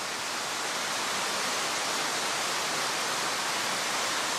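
The Tsugane-otoshi waterfall in Nagasaki roars in an unbroken wall of broadband rushing water, loud and close, with no voices.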